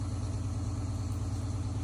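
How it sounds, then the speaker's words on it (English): Semi truck engine at high idle during a clean-idle cycle, a steady low, throbbing diesel drone with an even rhythmic pulse, close and constant with no talking. "This thing's high idling for a clean idle, so I don't want to be too loud."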